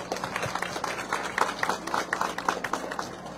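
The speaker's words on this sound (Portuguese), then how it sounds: "quero também pedir aqui uma salva de palmas a todos os servidores aqui deste local." An audience applauds hospital staff at the opening of an obstetric centre at a municipal hospital in Varjota. The clapping is fairly faint and scattered, with uneven hand claps continuing throughout.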